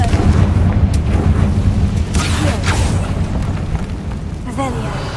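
In the Hogwarts Legacy video game, a Confringo explosive spell goes off as a loud, rumbling boom with crackling bursts, mixed with game sounds.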